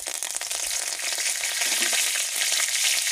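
Curry leaves hitting hot oil with five-spice, cumin, dried chilli and black mustard seeds, a loud, close, steady hissing sizzle with small crackles and pops throughout.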